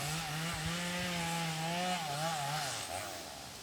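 Mango trees being cut down beside rice fields, most likely with a chainsaw; a steady, loud motor whine holds through the whole stretch with slight pitch wavers, then eases off toward the end. No talking is heard.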